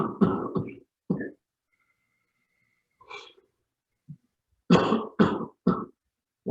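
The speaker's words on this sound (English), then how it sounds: "Exhale, cough at the end of the breath." Several short, sharp coughs and throat-clearing bursts, close and isolated, separated by stretches of near silence.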